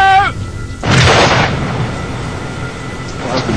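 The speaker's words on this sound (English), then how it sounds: "The ground is scarred by the tremendous force of the explosion." A shaped charge detonates against a 1.5-inch steel plate, a sudden loud outdoor blast with a broad roaring burst that decays into a long rumbling tail, following a brief tonal sound at the start.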